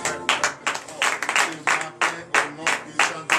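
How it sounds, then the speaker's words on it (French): A congregation at a morning prayer service claps in a loud, steady rhythm, with repeated bursts of hand claps and a voice heard between them. "Pourquoi je vous demande d'applaudir encore ce"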